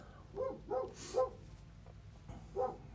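A dog barks in short sharp bursts indoors, four or five loud barks spaced irregularly with a brief pause before a final bark, no talk over them.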